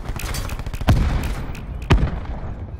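Video game gunfire aimed at a robot, a fast patter of shots with two heavier booming hits about a second apart, loud and close.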